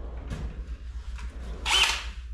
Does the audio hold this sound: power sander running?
yes